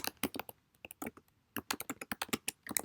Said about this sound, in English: I would answer this question by simply typing in my answer over here to the right.